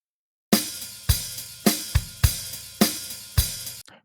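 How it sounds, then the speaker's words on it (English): Soloed drum kit loop without New York parallel compression, a steady pattern of punchy kick and snare hits at an even rhythm, dry and close, about six strokes before stopping. "if I'm to solo the drum without the New York parallel compression, it sounds like this"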